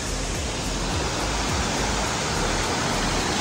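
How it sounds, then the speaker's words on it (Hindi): The Kiwai waterfall in Shogran roars as a steady, dense rush of falling water, loud and unbroken from start to end with no voices. "यार पता नहीं, बस वाटरफॉल है।"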